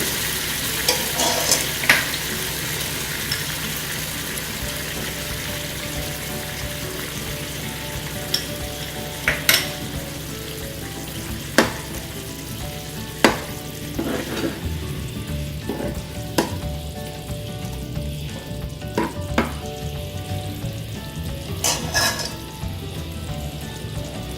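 Methi dal with added water and salt bubbles and sizzles steadily in a pan on the stove, a constant close frying hiss with occasional sharp clicks and stirring knocks.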